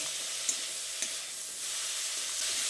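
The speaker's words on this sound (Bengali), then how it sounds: "এবার নুন আর হলুদের গুঁড়োটা দিয়ে বিটের সঙ্গে ভালোভাবে নেড়েচেড়ে মিশিয়ে নিচ্ছি।" Beetroot seasoned with salt and turmeric fries in a pan, a steady bright sizzle and hiss that runs throughout, broken by a couple of light scrape-and-stir knocks close by.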